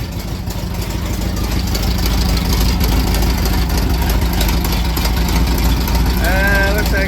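The engine of a 1968 VW Baja Bug idles in neutral with the rear wheel off. It makes a steady, loud, rough rumble close by, and a voice speaks briefly over it.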